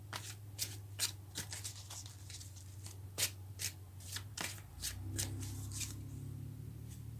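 Tarot cards are shuffled by hand in a quiet room, a run of soft riffling snaps and slides coming in irregular bursts, close and fairly faint.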